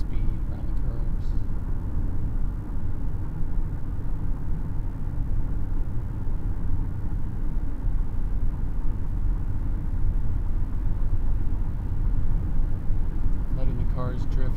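A car cruising at a steady speed on a night road, heard from inside as an even, continuous low rumble and road hum that holds level throughout, close and constant.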